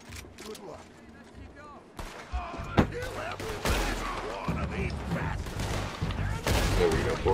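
Rapid bursts of gunfire crack and boom through a Red Dead Redemption 2 gang shootout, shots stacking into a dense, continuous fusillade that grows louder toward the end, with voices talking over the battle.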